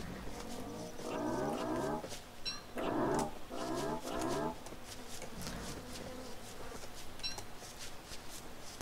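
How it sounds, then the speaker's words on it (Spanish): Hounds in Don't Starve Together growling and breathing, a few rough, pulsing growl bursts near the start and then a quieter rasping texture, moderately close with no talk. "respiran los perros"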